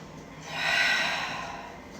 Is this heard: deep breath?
yes